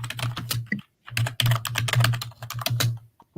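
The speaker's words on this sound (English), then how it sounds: "I can hear the typing." Fast bursts of clicking on a computer keyboard, close and crisp, with brief pauses between runs of keystrokes and no talking.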